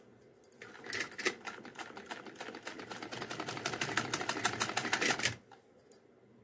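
A sewing machine stitches a small outfit for a Laddu Gopal doll in one steady run of rapid, even clicking, close and fairly quiet, starting and stopping cleanly.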